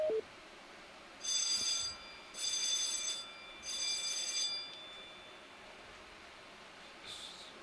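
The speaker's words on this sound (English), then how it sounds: "today apparently is drill day, so we're hearing lots of alarms" Three bursts of a bright electronic drill alarm aboard the research ship Okeanos Explorer ring in a regular pattern, each about a second long, over a steady background hiss, then a fainter fourth burst.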